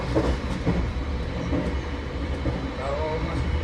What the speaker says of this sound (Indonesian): Kita ngebut ini melintas di stasiun Raya Wulu